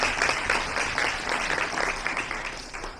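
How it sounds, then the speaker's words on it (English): An audience at a symposium closing session applauds, a dense steady wash of clapping from many hands throughout, with no pauses. "give yourselves a round of applause for your participation"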